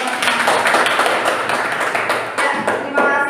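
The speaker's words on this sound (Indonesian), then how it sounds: "Oke, tepuk tangan buat kita semua." A classroom of students in a trigonometry lesson applauds together, dense continuous clapping from many hands nearby, lasting throughout with slight swells, no talk.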